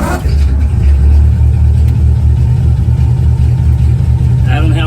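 A flathead-powered coupe fitted with Holley 94 carburetors and a column shift is driven, its loud rumbling engine and road noise continuous and close from inside the car.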